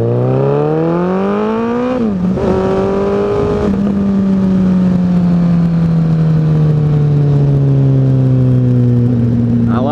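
A 2014 Suzuki Hayabusa GSX1300R motorcycle ridden on the road, its loud engine droning and rising through the gears, with brief drops in pitch at the gear changes and a long steady pull afterward, plus some wind noise.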